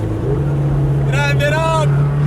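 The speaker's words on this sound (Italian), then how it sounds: "Che casino che fa la GTR!" A Nissan GT-R's deep, steady engine drone rumbles loudly throughout at a car meet, while a voice briefly calls out over it in the middle.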